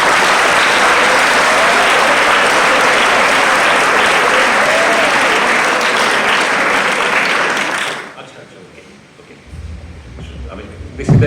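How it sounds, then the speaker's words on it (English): A large audience gives a long, loud round of applause at a college freshers' day event, steady and dense for about eight seconds before it cuts off abruptly into quieter room noise. "Please give a big round of applause"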